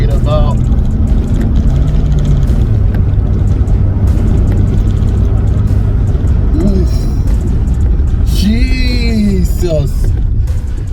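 A steady, loud engine drone from inside a moving VW Citi Golf 1.4i, with pitch shifting as it accelerates, voices talking over it.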